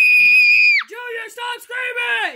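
A person gives one long, loud, high-pitched scream that breaks off into a few shorter, lower yelling cries, close and alone.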